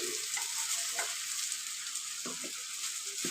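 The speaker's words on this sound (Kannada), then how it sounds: "ಇವಾಗ ಅನ್ನ ಹಾಕ್ತಾ ಇದ್ದೀನಿ ನೋಡಿ" Cooked rice is tipped into a hot oiled pan for chitranna and stirred, giving a constant bright sizzle with a few soft scraping stirs near the start and end.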